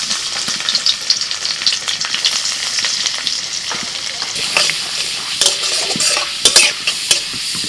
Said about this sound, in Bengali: জিরেটা ভাজা হয়ে গেলে দিয়ে দিচ্ছি রসুন কুচি